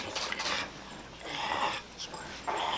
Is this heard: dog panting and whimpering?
yes